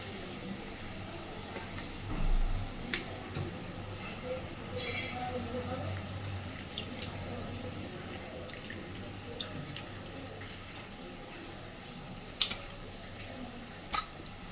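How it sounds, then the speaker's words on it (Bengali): A little water is poured into a steamed boal fish dish, a short splash near the start over a steady, noisy kitchen background with faint clinks. "এই পর্যায়ে আমি সামান্য একটু জল এখানে দিচ্ছি"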